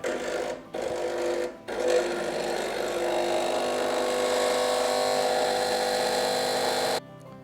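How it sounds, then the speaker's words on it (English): A home espresso machine pulls a classic espresso shot while a second shot brews, giving a steady close pump hum with a brief stutter near the start before it cuts off abruptly. "what we're going to make now is the classic espresso shot, and at the same time we're going to make another shot"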